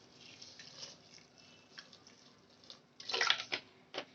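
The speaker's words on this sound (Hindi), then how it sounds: "मैं इसके अंदर डाल दूंगी 1 गिलास पानी" A glass of water is poured over mutton in a pressure cooker for biryani, a soft splashing trickle that grows louder and fuller toward the end, close by and quiet, with no speech.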